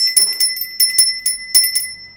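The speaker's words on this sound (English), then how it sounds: "you could use a hand bell or a little bell like this" A small hand bell rung repeatedly to cleanse crystals and crystal jewellery, its bright, ringing strikes coming in an uneven series of shakes, close and clear with no talking.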